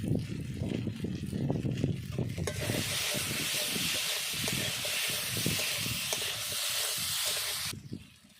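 Turmeric powder hits hot oil in a pan for a Rui fish and gati kochu curry; after some stirring and scraping, a loud, dense sizzle bursts up and holds steadily for several seconds before cutting off.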